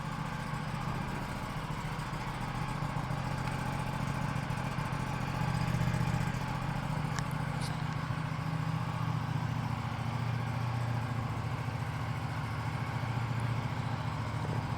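An Aprilia RS 457 motorcycle engine idles steadily after a cold start, a continuous low droning rumble that swells slightly around the middle, with no talking.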